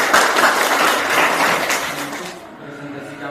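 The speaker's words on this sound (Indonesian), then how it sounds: "Oke, tepuk tangan." An audience claps steadily after a group presentation, a dense sustained applause that fades out toward the end.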